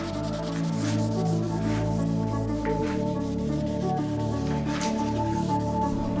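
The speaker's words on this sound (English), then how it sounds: "And now I'm going to wet sand this primer with 600 wet." Primer on a custom-painted part being wet sanded with 600-grit wet sandpaper, a steady close rubbing scrape that runs continuously over a constant low hum.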